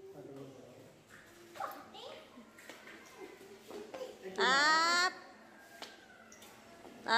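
A pet dog plays with a child during a family New Year gathering, letting out a sharp, high whimpering yelp midway through, with soft voices and babble before and after.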